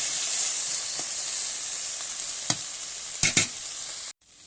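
Spice paste for a fish curry sizzling in hot oil, a steady loud frying hiss with a few brief stirring scrapes near the end before it cuts off.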